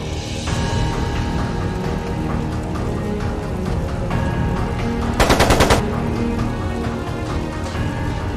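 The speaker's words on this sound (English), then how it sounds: "It sounded like a machine gun." Rapid machine gun fire from the video game Trails of Cold Steel II bursts out loudly for about half a second over steady game music and ambient sound, its quick repeated shots cutting through the background.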